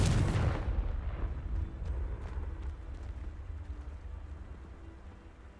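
A loud boom from the Confringo spell in Hogwarts Legacy opens the moment, followed by a rumbling, fading tail of debris and ambient noise over several seconds.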